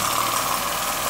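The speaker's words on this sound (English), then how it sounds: "There's the Jensen 20 going along nicely." A Jensen Model 20G toy steam engine runs steadily, a continuous mechanical whir with a faint rapid chuffing texture, close and fairly loud, with no voices.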